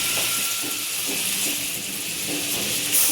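Garlic sizzling in butter in a pan, a steady close hiss with faint crackles running throughout, no talking.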